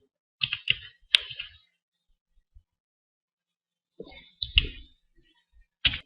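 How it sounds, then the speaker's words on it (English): Password being typed on a computer keyboard in quiet short bursts: a few clustered key clicks near the start, a pause, then another flurry of taps and a final click. "And then just type my password."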